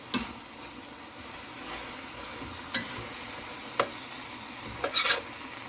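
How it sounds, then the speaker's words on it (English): A spoon stirs carrots and cabbage in a cooking pot, giving soft continuous scraping with a few sharp clinks against the pot spread through the stretch. "gave it a nice stir"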